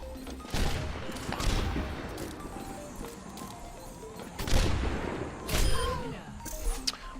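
Widowmaker sniper rifle shots in an Overwatch 1v1 tournament final, several sharp, loud cracks spaced a second or more apart over a steady bed of game noise.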